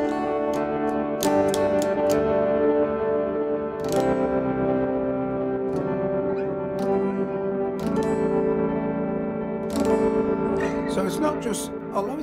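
Sustained harmonic instrument tones passing through a long, slow ambient delay from the BYOD multi-effects plugin, with repeated note onsets smearing into a dense, continuous wash of echoes.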